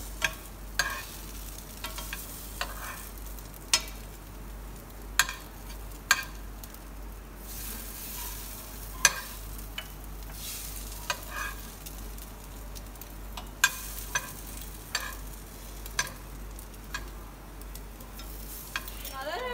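French toast frying in a butter-lined pan gives a low, steady sizzle punctuated by frequent sharp spatula clicks and scrapes against the pan at irregular intervals.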